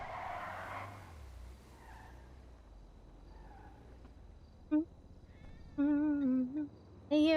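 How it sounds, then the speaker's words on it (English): A cat meows several times in a roleplay game world, short tonal cries that grow clearer and closer near the end over a faint background hum. "I hear a kitty cat."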